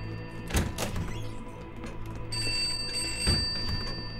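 In the horror video game Pineview Drive, a couple of dull thumps come first, then a faint, phone-like electronic ring begins partway through and keeps going steadily to the end.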